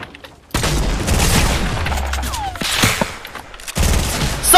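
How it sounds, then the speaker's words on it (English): Rapid bursts of gunfire in a Fortnite match, sniper rifle shots cracking out loud and near in dense volleys with a short pause between clusters. "Somebody sniped at me!"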